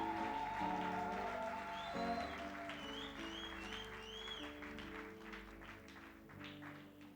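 A church congregation applauds the Lord during a revival service, the clapping sustained but mixed under steady, louder music throughout.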